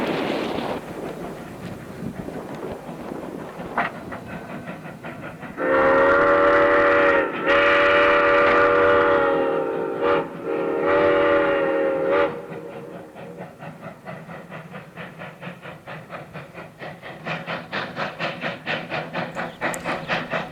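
A Virginia & Truckee Railroad train approaches and passes at a Nevada railroad museum, sounding several long, loud steam whistle blasts in the middle before the rhythmic chuffing and rail clatter build as it nears.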